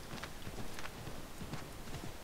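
Hooves of a sprinting horse in Assassin's Creed 3, a faint, steady clip-clop rhythm of several quick beats over background noise.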